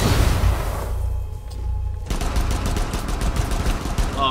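Gunfire in Rainbow Six Siege: a burst of rapid shots, then a short lull, then another stretch of sharp repeated shots, close and loud in the game mix.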